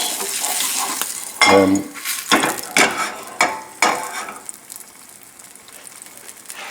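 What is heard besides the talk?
risotto and mushroom patties frying in a pan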